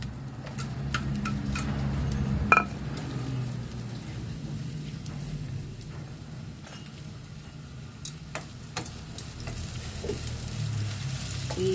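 Onions are lightly sautéed in a pan as a topping for a home-cooked chicken steak, giving a steady, close sizzle with occasional clicks and scrapes of stirring, and no talking.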